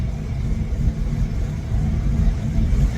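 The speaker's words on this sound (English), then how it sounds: "It's bucking really bad. It's acting like it's fuel starved." A car engine bucking and sputtering as a dying fuel pump starves it of fuel, giving a steady loud low rumble with uneven surges throughout and no voices.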